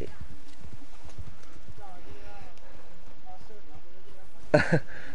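Horse hooves clip-clop in a steady, rhythmic run in the Red Dead video game, with people talking and laughing over them, and a brief louder burst near the end.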